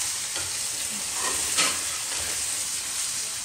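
Chopped tomatoes fry in a masala base for spicy jackfruit curry, giving a steady close sizzle with a brief louder burst midway, likely as the tomatoes hit the pan and are stirred; no voices.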